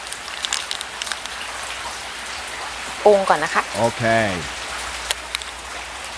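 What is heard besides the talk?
heavy rain falling during a storm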